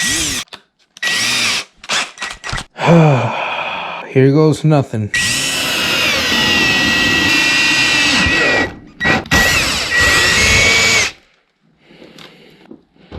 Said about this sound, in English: Then you take your 3/8 ounce drill bit.